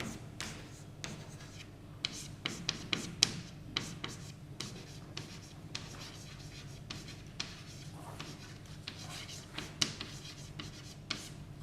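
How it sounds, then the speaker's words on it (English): Chalk taps and scrapes across a blackboard as a theorem is written during a mathematics lecture, a busy run of short strokes and clicks with irregular rhythm, close and moderately loud, no talking. "So I'll write the theorem."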